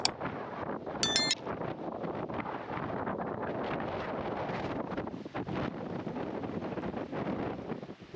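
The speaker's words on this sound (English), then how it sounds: "there is a strong, gusty wind" Strong, gusty wind buffets the microphone on the Yorkshire coast at Ravenscar, a steady loud roar that surges and dips throughout, with a brief sharp knock near the start.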